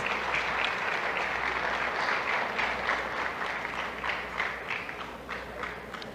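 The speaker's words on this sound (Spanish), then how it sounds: "Yo no pensé que me fueran a aplaudir" A congress audience applauds Colombia's housing minister, Catalina Velasco, during her address: a long, steady wash of clapping from many people, fairly distant and even throughout, easing a little near the close.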